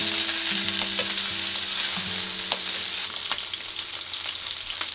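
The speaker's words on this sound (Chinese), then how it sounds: "然后五花肉下锅煸炒，不用放油哈，小火慢慢煸出油脂" Pork belly stir-fries in a pan without added oil, rendering its fat over low heat, giving a dense steady sizzle with occasional scraping clicks and no talk.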